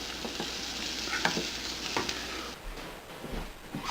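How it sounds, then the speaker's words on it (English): Garlic stirred while frying in a pan, giving a steady close sizzle with soft, intermittent scrapes of the spoon, and no voices. "you want to add the garlic. And continue stirring for 1 more minute."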